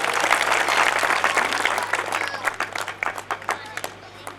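Applause from an audience at a Hindi poetry gathering, dense at first and then thinning into scattered individual claps, heard over a low steady hum.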